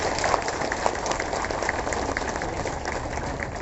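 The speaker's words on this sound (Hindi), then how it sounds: "एक बार जोरदार तालियां।" Crowd applause at a gathering honoring a Sarna code activist, a dense steady wash of many hands clapping throughout, fairly loud with no distinct individual claps.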